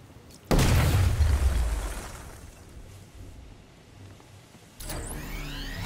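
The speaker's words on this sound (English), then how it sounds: "apply the explosive directly to destroy that wall" An explosive blowing through a wall in Batman Arkham Knight: a single loud, close boom that decays into a long rumbling tail, followed a few seconds later by a sharp burst.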